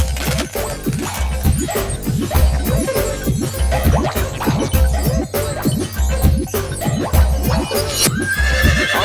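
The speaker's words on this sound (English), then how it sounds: "I spy a horse." A horse neighs and whinnies repeatedly over a rhythmic clip-clop of hooves, loud and close, with some crashing noise mixed in.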